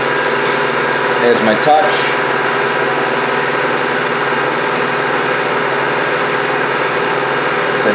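A milling machine with a 1/2-inch end mill runs steadily while making T-nuts, a constant loud mechanical hum and whine, with someone speaking briefly over it.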